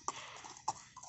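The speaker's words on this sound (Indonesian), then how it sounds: "bujang muda nih naik kuda" A horse on a ride at a stable arena gives two distinct, fairly faint hoof clip-clops about half a second apart, close by, with a softer third knock at the end.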